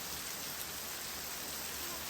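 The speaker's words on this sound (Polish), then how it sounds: "No, troszkę tylko sobie deszczykiem mrzawił" Light drizzle falling in a Borneo rainforest near Sandakan, a steady soft hiss of fine rain with no distinct drops standing out, faint and continuous throughout.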